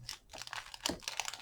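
Packaging of an MF3 RS3M Rubik's-type cube box crinkles and crunches as it is opened by hand, in quick close rustling bursts with no talking.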